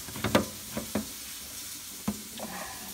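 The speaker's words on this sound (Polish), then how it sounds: "Rybka, co teraz smażymy." Cod sizzling and frying in a pan, with a soft continuous hiss and a few clinks and scrapes of a utensil stirring.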